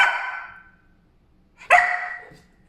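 A puppy named Dexter barks twice, close and loud, with a short whine-like tail after the second bark and a pause of silence between them.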